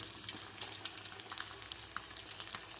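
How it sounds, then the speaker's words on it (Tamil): Fish fries in a pan with a steady, fairly quiet sizzle and scattered crackling pops, close by, with no voices. "நான் மீன்லாம் ஒழுங்காக பொறிக்கணும்னு பார்த்துருங்க."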